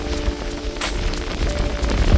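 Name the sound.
heavy rain falling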